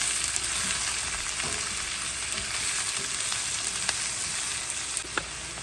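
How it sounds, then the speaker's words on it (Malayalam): Sliced onions fry in hot oil for beef masala, giving a dense, even sizzle close up, with faint scraping strokes of a stirring spoon and a couple of light taps near the end. "ഒണിയൻ ഇട്ട് കൊടുക്കണം, ഉള്ളി ഇട്ട് കൊടുക്കണം. എന്നിട്ട് നല്ലതായിട്ടൊന്ന് ഇളക്കി കൊടുക്കണം."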